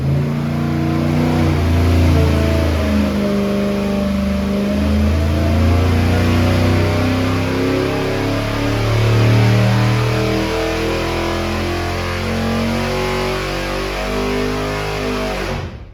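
A 355 small block Chevy V8 with a small cam revs hard on a dyno, a loud, continuous throaty roar that swells and settles in pitch across the run with no talking over it.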